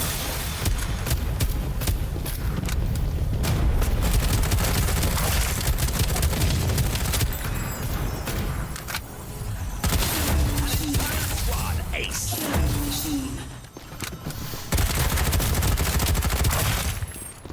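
Dense, continuous video game gunfire, with sustained automatic bursts, booms and mechanical reload clatter, loud and close throughout with a brief lull near the end.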